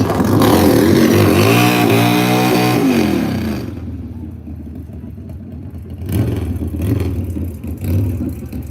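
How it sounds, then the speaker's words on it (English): A street bike at a nitro drag racing event screams past loudly with a rising engine whine that quickly fades, leaving crowd and track ambience before a second, quieter engine swell. "definitely ready for some street bike action"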